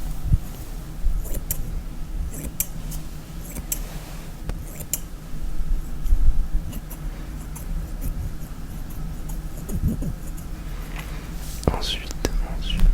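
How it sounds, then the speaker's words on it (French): A small pair of scissors snips hair during an ASMR self-haircut, giving soft, close, intermittent clicks under steady whispering. "Une petite paire de ciseaux."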